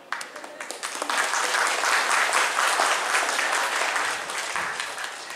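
Applause from a large crowd at a community meetup gathering, building quickly to a full, dense roar of clapping and then easing slightly toward the end.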